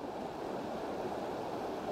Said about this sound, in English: you got the running water off in the distance